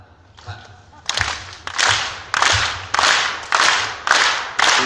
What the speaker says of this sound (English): If you could clap like I see and remember in Russians, the Russians do it, clap, clap.